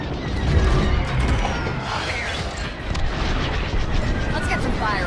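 Starfighter blasters and explosions in the space combat game Star Wars Squadrons roar continuously, a dense loud barrage of rapid laser fire and booming impacts.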